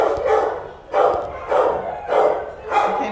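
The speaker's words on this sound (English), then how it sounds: "Oh, the barking dogs in here." Dogs bark repeatedly in a steady rhythm in an animal shelter, five sharp barks echoing in an enclosed space, fairly close and loud.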